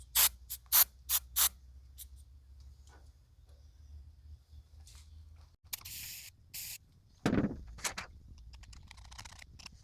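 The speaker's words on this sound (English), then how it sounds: "spray a parts cleaner" Several short sharp spray bursts from an aerosol can of parts cleaner on a dirty exhaust screen, then quiet, followed by more hissing sprays and a brief thud.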